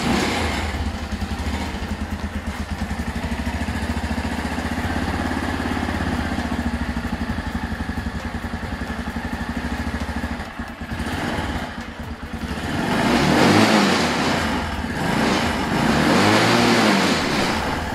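A motorcycle that had no spark, now fitted with a replacement digital CDI, runs at a steady idle with a loud, close buzzing drone, then revs up and dips a few times near the end.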